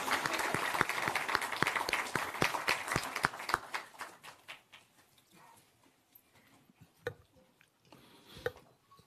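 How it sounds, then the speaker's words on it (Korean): Applause from lawmakers at a People Power Party caucus meeting, welcoming the emergency committee chair: thick, rapid clapping from a crowd that thins over a few seconds into a handful of scattered claps in a quieter room. "우리 큰 박수로 환영해 주시면 감사하겠습니다."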